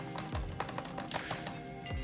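Typing on the plastic keyboard of an Acer Chromebook CB314 laptop: a close, steady run of light key taps and clicks with a few heavier strokes, no talking.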